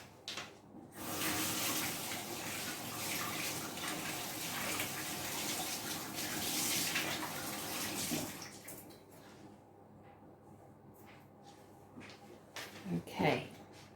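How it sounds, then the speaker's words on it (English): Hands washed under a running kitchen tap, a steady close rush of water for about eight seconds, then quieter drips, splashes and handling sounds as the flow stops. "I'm just going to wash my hands."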